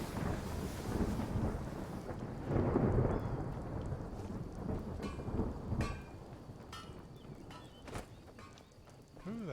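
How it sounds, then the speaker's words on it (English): Thunder rumbles over steady rain in the video game Skyrim, a modded survival playthrough. Low rolling booms swell and fade beneath a constant hiss, with faint clicking and clopping game sounds scattered throughout. "Ooh, that thunder and lightning."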